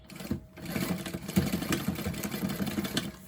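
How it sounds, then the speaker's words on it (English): A sewing machine runs steadily as it stitches a bag, a close, even mechanical whirring that holds for a few seconds with no talking. "Pull it and stitch."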